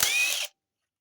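A power tool whirs for about half a second while backing out a bolt during a TH400 automatic transmission teardown, loud and close, then cuts to silence.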